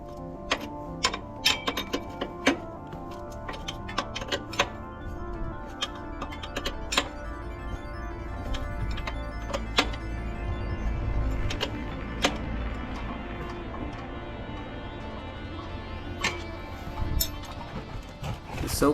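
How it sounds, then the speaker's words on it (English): A Royal Enfield Classic 350 rear wheel being tightened with hand tools: a steady run of sharp metallic ticks, clicks and clinks, close by, with a low background hum and faint voice-like murmur. "So I'll get the wheel tightened up again"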